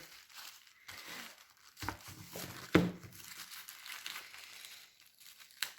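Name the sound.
opening a second package during unboxing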